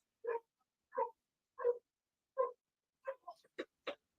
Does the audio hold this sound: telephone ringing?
no